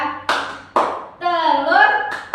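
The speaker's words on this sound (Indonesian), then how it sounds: "kalau ibu bilang tepuk nyamuk Aedes, kalian tepuk tangan ya" Third-grade pupils in a science class clap their hands in time with a sung classroom chant, sharp claps falling about every half second between young voices singing together.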